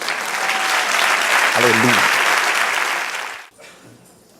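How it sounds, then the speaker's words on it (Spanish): Loud, sustained congregational applause during a Spanish-language church service, a crowd clapping steadily for about three seconds with a voice calling out over it, then cutting off into near quiet. "Dale un aplauso al Señor."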